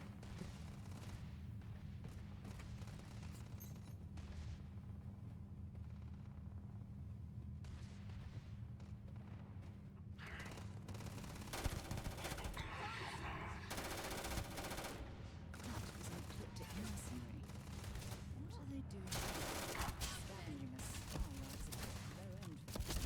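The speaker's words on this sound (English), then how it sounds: "I hear shooting." Gunfire in the video game Starfield rattles as rapid bursts and repeated shots over a constant low game drone, moderately loud, with a person talking over parts of it.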